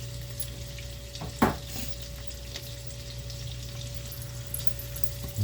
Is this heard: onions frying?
yes